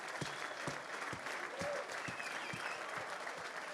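Audience applause at a Watford FC 1999 promotion squad reunion, a steady round of clapping from a crowd with a few louder claps standing out, moderately distant and sustained throughout.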